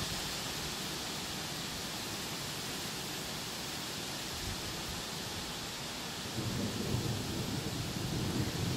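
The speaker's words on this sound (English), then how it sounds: "Yeah, the storm's coming in from behind me." A windy thunderstorm rolls in at night, a steady roar of rain and wind with a deeper rumble of thunder swelling in the last couple of seconds.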